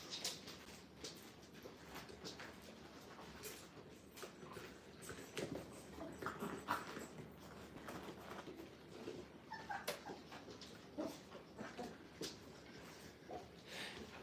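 Young Brittany spaniel puppies play at a dog training kennel, giving faint yips, whimpers and scuffling in a steady, low-level jumble with occasional sharper squeaks.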